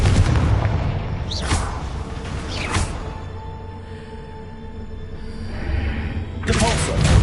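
Confringo explosion spell cast in a Hogwarts video game, heavy booming blasts with whooshing tails, a big burst at the start, another around three seconds, and a final loud blast at the end, close and full over a rumbling game backdrop.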